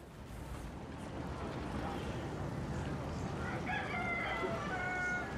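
A rooster crows in the background, a faint drawn-out call rising late in the clip over a steady low murmur of ambient noise.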